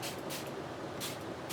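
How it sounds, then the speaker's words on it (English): Water is spritzed from a small glass spray bottle onto a paper card: two or three quick, breathy hisses of mist, close and quiet, with no talking. "this is just water in my little glass spray bottle. And I'm just going to spritz all over my"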